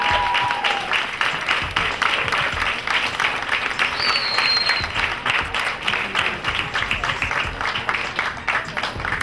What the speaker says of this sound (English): Round of applause, y'all. Give it up.